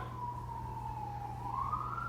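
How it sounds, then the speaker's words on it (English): A wailing emergency vehicle siren, heard at moderate distance and fairly faint, its tone sliding slowly down and then back up over a steady low background hum. "Hear that siren."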